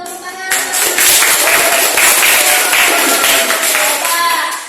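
Dense, steady applause from an audience in a biology teaching class breaks out after a brief quiet moment and carries on at an even, loud level, with faint voices mixed in underneath.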